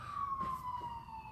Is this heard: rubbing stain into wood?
no